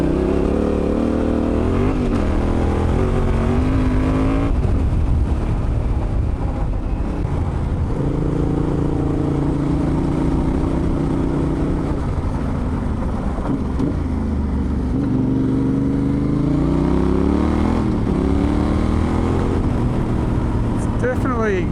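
A Yamaha T7 motorcycle rides along a road, its engine rising and falling through gear changes and throttle pulls with steady wind rush, while the rider talks over it.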